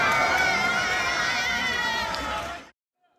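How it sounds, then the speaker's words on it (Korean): Crowd of opposition aides outside a parliament chamber clapping and cheering, dense shouting voices and clapping mixed into a loud, sustained roar that cuts off abruptly near the end. "본회의장 밖에서 대기하던 야당 보좌진 등이 박수를 치고 환호를 내질렀습니다."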